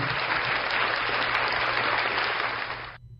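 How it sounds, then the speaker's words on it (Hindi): A church congregation breaks into steady, dense applause, a sustained wash of clapping that holds evenly for about three seconds before cutting off abruptly. "कितने लोग तालियां बजाएंगे इस बात से?"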